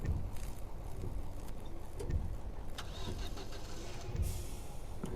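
A bus engine cranks and turns over in the Night Bus horror game, rumbling at mid-level with a few sharp clunks and a brief higher whine near the end, no talk.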